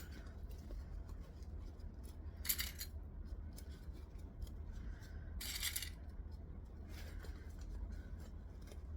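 Scissors snip loose thread tails on a sewn bag at a workbench, two or three short crisp metallic snips standing out over a faint, quiet background.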